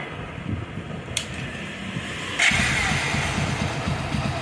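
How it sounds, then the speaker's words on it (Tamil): A motorcycle engine catches partway through after a quiet, low rumble, then settles into a louder, steady, close idle that continues to the end. "வண்டி ஸ்டார்ட் பண்ணு"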